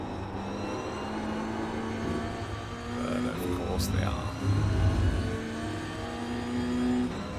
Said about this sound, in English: A load more coming through now, BMWs, all in a line.